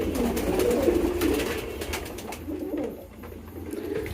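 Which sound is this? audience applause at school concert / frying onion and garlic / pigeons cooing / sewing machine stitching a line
pigeons cooing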